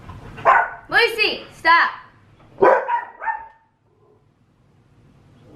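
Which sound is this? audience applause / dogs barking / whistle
dogs barking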